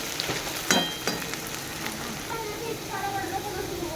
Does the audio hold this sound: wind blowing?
no